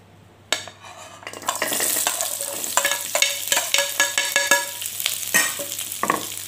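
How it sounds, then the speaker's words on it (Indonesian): Turmeric, shallots, garlic, ginger, chili and candlenuts are dry-roasted in a pan, with a spatula scraping and clattering against metal in repeated strokes over a soft hiss, close and fairly loud. "Dan ini kita sangrai terlebih dahulu ya."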